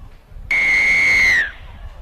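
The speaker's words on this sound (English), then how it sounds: "who is certainly blowing the pea out of the whistle early on" A referee's whistle at a country rugby league representative match, one long loud shrill blast lasting about a second that drops slightly in pitch as it ends, over faint crowd noise.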